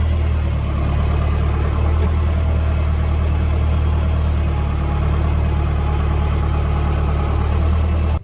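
A tractor on a slight slope idles steadily with a deep, continuous low rumble close by, unchanging throughout, with no talking.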